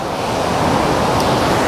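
A mountain stream rushes loud and steady, its close broadband wash of flowing water filling the whole stretch with no voices.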